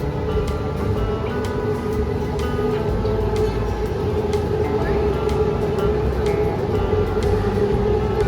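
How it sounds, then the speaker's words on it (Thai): A train rumbles steadily into a station near Siam in Bangkok, with a continuous low roar, metallic squeals and rattles throughout, fairly loud and close. "นี่รถไฟมาแล้วทุกคน"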